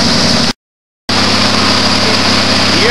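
An AMC Gremlin engine fitted with a hydrogen unit, throttle held open, runs as a loud, steady drone close by. The sound cuts out for about half a second, then the same even roar resumes.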